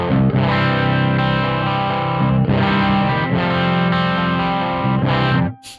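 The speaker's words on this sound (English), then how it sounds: "I think this sounds pretty cool for low-tuned guitars." A low-tuned electric guitar, played through a Two notes Genome amp simulator, chugs thick distorted chords in dense sustained bursts at high volume, then cuts off abruptly at the end, with no speech.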